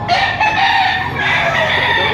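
A rooster crows loudly and close at a gamefowl sale in Padre Garcia, Batangas, its drawn-out call filling the clip over a busy background of other birds.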